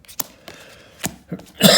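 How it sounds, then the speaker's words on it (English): A few sharp, separate coughs close by, irregularly spaced, ending in a louder, harsher burst. "I got into a bit of a coughing fit there."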